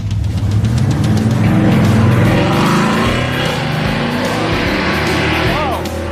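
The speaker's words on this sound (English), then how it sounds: "It's got a 707 horsepower Hellcat engine in it, giant tires in the back, skinnies in the front." A drag car with a 707-horsepower Hellcat engine and 2015 Hellcat drivetrain, giant rear tires and skinny fronts, launches hard on a road course. Its engine roars loud and close, with a brief tire chirp near the end.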